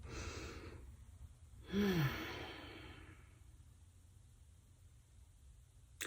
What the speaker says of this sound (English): This is taking a deep breath